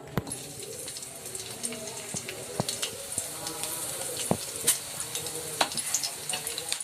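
Green chilies frying in oil with peanuts and chana dal, a steady crackling sizzle with scattered pops and scrapes of stirring, close and fairly quiet throughout.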